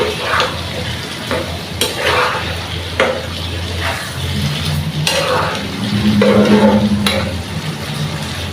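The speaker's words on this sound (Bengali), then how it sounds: "তো এটাকে আমি ভাজা ভাজা করে নিব।" Shutki (dried fish) fries in a pan with plenty of liquid, a close, wet sizzle broken by repeated stirring scrapes and clatters of a utensil against the pan, with no talking.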